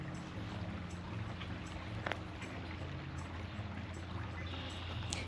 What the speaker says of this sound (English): I could just sit here all day and just listen and watch the creek